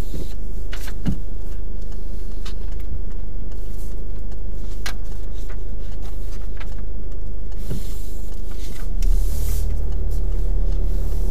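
A car engine idles steadily and close during a mock driving test, then grows louder as it pulls away near the end; no talking.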